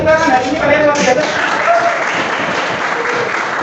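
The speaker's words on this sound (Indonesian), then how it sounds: "Oke guys, semuanya tepuk tangan" A classroom of students clapping together, a dense burst of applause close by with voices mixed in and fading slightly toward the end.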